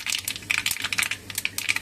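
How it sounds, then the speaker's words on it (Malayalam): Mustard seeds crackle and pop in hot oil in a home kitchen while chicken curry is being started, a dense run of sharp, rapid snaps and spits heard close and fairly loud, with no talking. "കടുക് ചെറുത്ത് പൊട്ടി."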